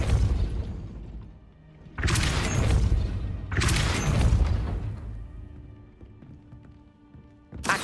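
Spell blasts from Hogwarts Legacy as a gate is forced open, several loud booming bursts with shattering crashes in a game scene, separated by quieter rumbling gaps.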